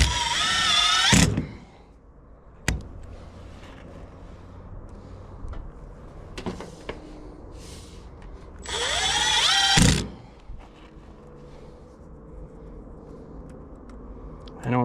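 A screw gun whines loud and close in two bursts, driving screws while soffit is hung on a new building, with a sharp knock and faint background sounds in the quiet stretch between.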